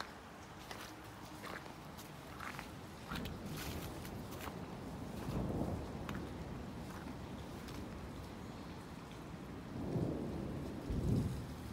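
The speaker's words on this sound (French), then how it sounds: "L'orage est encore un petit peu actif." Rain patters steadily during a still-active Christmas thunderstorm, while soft low rumbles of far-off thunder rise and fade a couple of times.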